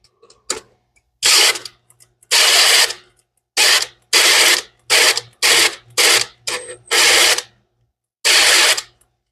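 A cordless drill spins in repeated loud bursts of varying length, stopping and restarting as it strains against pressure while priming a big block Foxbody engine, close up with no talk.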